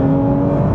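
Porsche GT3 under hard acceleration, a loud, steady engine drone with a strong tonal whine heard from inside the car over a brief stretch.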